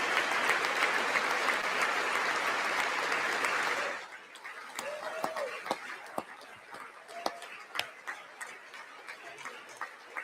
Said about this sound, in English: Everybody should be clapping for this.